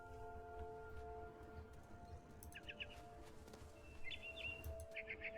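Small bird chirps in brief clustered bursts, a barn swallow in the video game What Remains of Edith Finch, faint over a steady low ambient hum and tonal background drone.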